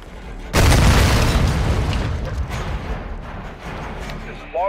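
A loud, close airstrike explosion in Call of Duty ranked play bursts in suddenly with a heavy booming blast, then rumbles and crackles on for several seconds under faint game voices.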